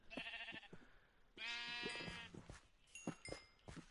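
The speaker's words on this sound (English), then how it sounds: "Sheeps everywhere." Sheep in the video game Minecraft bleating in several short, wavering calls, close and clear, separated by brief gaps with faint game sounds between them.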